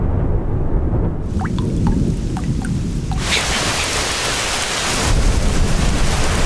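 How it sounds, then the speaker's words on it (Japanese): A sudden heavy downpour with thunder fills an anime film scene, rain hissing densely throughout while deep rumbles roll underneath and sharp drips tick briefly before the rain swells even louder. "두 사람은 갑작스러운 폭우를 만나게 되죠."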